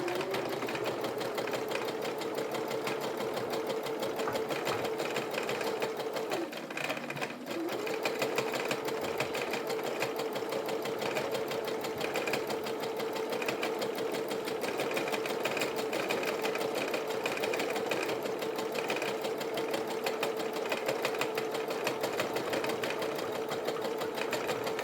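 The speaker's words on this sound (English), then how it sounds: "I'm doing a medium speed here on my sewing machine" A computerized sewing machine runs steadily at medium speed, stitching the seam of a tote bag with a continuous, even mechanical whir that holds at a constant level for the whole stretch, without any talking.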